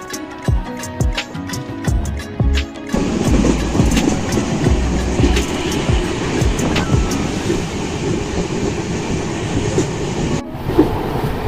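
The Naharlagun to Tinsukia Express crossing a long rail-road bridge, a loud close rumble and clatter of wheels on track with rhythmic clicks, continuous until near the end.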